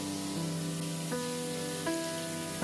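Pumpkin pieces fry in a pan with a continuous soft sizzle and crackle, brief and steady with no voices.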